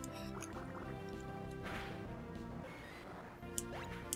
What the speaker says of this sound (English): Water gun attack.